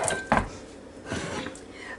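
A few clanks of a metal pan on a kitchen counter as homemade meatloaf is put into it, with a sharp knock near the start and softer handling after.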